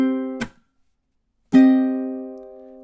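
A ukulele strums measure 18 of a song: one short muted strum dies away into a pause, then a single ringing downstroke chord sustains and slowly fades.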